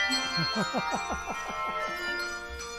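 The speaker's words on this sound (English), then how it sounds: "that is me slinging some bells around" A small set of hand bells rung by a beginner in a weaving pattern, about a dozen bright, evenly spaced strikes in a quick rhythm, close and fairly soft.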